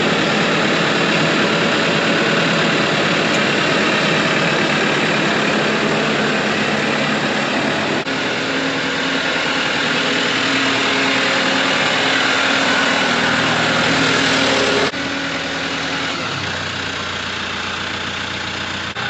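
A tractor with pallet forks attached idles steadily on a farm, a constant loud engine rumble with a shift in tone partway through and no talking.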